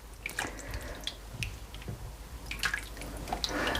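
A creamy chicken pot pie filling gets mixed in a pan, making faint wet squishing and dripping sounds with small scattered clicks, quiet and close with no voices.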